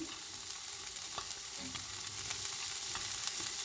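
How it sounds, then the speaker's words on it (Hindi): Carrots sauté in a pan over a high flame for Chinese fried rice, giving a faint, continuous sizzle dotted with small crackles and pops. "फ्लेम को हाई कर देंगे और हम अपनी वेजिटेबल्स जो हैं सारी सौते करेंगे"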